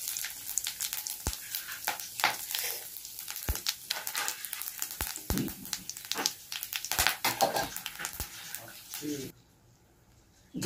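Whole dried chillies, bay leaf, cumin and garam masala sizzle in leftover fish-frying oil while preparing katla fish tel jhal, a steady close crackle with sharp stirring clicks throughout, ending abruptly near the end.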